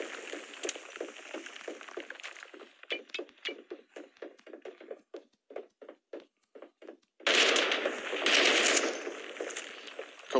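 Rapid bursts of gunfire in the shooter game Badlanders, a quick run of sharp shots spaced at an irregular rhythm, then a loud sustained stretch of firing and blasts near the end; no talk.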